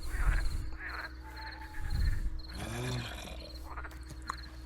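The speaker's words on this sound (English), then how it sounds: "Oh, it's a frog!" A frog in a Minecraft RPG modpack game croaks once in a short, rough, pitched call, set among faint ambient game sounds and low rumbles.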